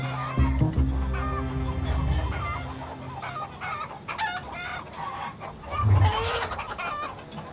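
Domestic hens in a flock cluck and squawk nearby in short irregular bursts, with some louder calls rising above a quieter farmyard background.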